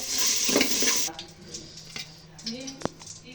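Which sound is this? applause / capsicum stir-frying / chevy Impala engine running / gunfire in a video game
capsicum stir-frying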